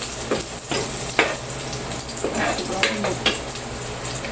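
Garlic and onion sizzle and fry in a pan for a tuna afritada, with scattered utensil scrapes and clinks as they are stirred, close and steady throughout.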